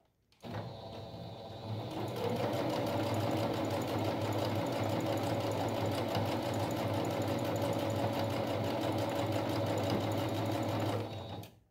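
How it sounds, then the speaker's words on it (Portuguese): Sewing machine stitching fabric strips for a rug runs in one steady, fast whirring burst that starts abruptly, holds near and loud for about eleven seconds, then stops. "passar aqui um pezinho de máquina"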